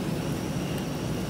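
Batik Air Airbus A320 airliner at an airport, giving a steady, continuous broadband engine roar with no gaps, moderately loud and heard on its own without talk.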